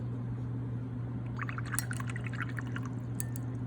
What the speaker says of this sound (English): swish out your brush